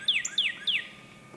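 Songbird at dawn in Pennsylvania giving three quick descending chirps in a row, clear and fairly close against quiet background.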